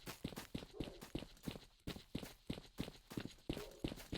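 Quick, even footfalls from a character sprinting in STALKER, roughly two steps per second, sound close and crisp for about four seconds.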